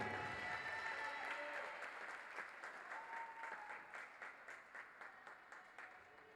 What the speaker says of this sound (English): Ladies and gentlemen, one more round of applause for number 15, Bennett McComb.